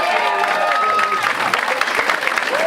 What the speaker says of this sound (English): how about one more round of applause for my man Mike Shader?